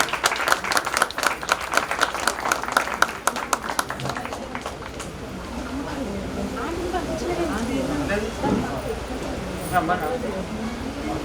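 Loud applause from a church audience at a 25th anniversary celebration, dense rhythmic clapping for about five seconds before fading into a murmur of talk and movement.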